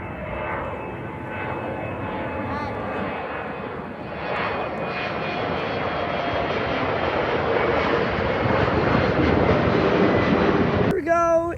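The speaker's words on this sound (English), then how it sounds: "It's an American E175 going to Washington, D.C., I think." An American Airlines Embraer E175 jet at Boston Logan Airport gives a sustained engine roar that swells gradually and stays loud and continuous, heard from a distance outdoors.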